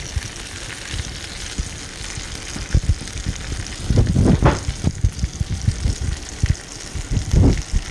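Wagyu steaks cut from chunk roast sizzle on a grill with butter over a raised fire, a steady crackling hiss with louder bursts of spitting and popping toward the end.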